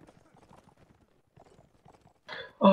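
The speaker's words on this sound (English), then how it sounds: "That'll just be Filippo on some fucking shit horse trying to couch, so be careful." A few sharp horse hoof clip-clops in Mount & Blade: Warband ring out near the end, following soft, quiet murmuring; crisp and close.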